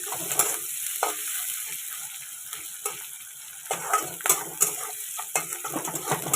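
Food lightly frying in a pan, a soft sizzle with frequent spatula scrapes and clinks in irregular bursts, close and alone.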